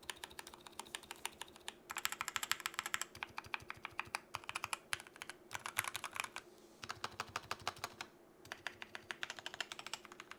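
Rapid typing on an Everest 60 mechanical keyboard with prelubed switches and padded stabilizers, steady muted clacking keystrokes in bursts with brief pauses, close and clear, no voices.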